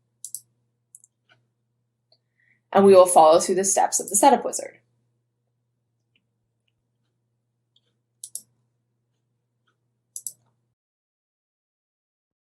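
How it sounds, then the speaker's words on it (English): Mouse clicks on a setup wizard button in a WooCommerce website setup demo: a few sharp, isolated clicks spread across a quiet stretch, with a short burst of someone talking between them. "From here, we are going to access our setup wizard by clicking this button."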